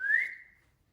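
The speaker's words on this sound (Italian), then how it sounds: "con il fischio" A single short rising whistle, clear and close, fading quickly into silence.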